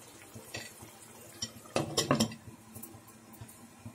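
Metal clatter of a lid being set onto a pot of mutton kuzhambu, a few sharp clinks bunched in the middle with lighter knocks around them, close and fairly loud.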